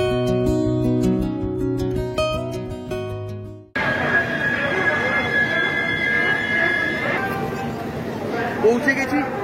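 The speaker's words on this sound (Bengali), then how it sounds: "ট্রেন ছেড়েছে শিয়ালদহ, অলরেডি 10 মিনিট হয়ে গেছে।" Humsafar Express passenger train from Sealdah running at speed, a steady rumble and rattle of wheels and carriages with a long high squeal from about the middle onward, after an earlier stretch of tonal sound; talk can be heard.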